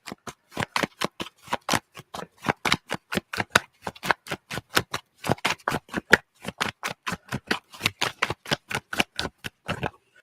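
A deck of tarot cards is riffled and shuffled over and over in rapid, rhythmic bursts of papery flicks and snaps, close up and alone with no talking.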